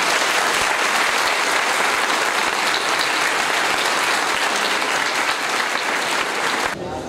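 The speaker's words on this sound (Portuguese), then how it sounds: "eu pediria uma salva de palmas para todos eles" Sustained applause from an audience at the inauguration of a federal institute campus, honoring the students, loud and dense throughout before thinning out abruptly at the very end.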